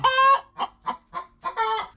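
A hen clucks in a nesting box, a longer drawn call opening and closing a run of short, evenly spaced clucks, close and clear with no other sound.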